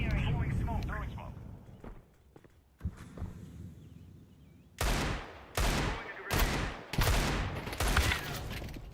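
Gunfire in the Counter-Strike 2 video game: after some talk and quieter game sounds, a series of about five loud, sharp shots arrives in quick bursts.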